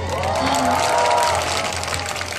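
Audience applause and cheering in front of an outdoor stage at an agricultural festival in Sacheon, steady clapping from the crowd that holds at an even level throughout.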